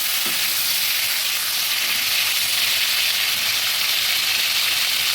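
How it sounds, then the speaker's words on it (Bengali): A fish head, rohu, fries in hot oil in a pan, giving a steady, dense sizzle that holds evenly for the whole stretch with no voices. "এটাকে মাছের মাথাটা ভেজে নিচ্ছি।"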